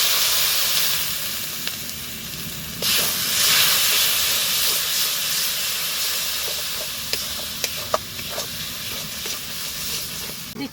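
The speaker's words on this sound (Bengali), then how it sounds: "মশলাটা যাতে পুড়ে না যায় সেই জন্য দিচ্ছি একটু জল।" Water splashed into frying turmeric and Kashmiri chili paste in a pan sets off a loud, close rush of hissing steam and sizzle that eases slightly over ten seconds, with a few light utensil clicks.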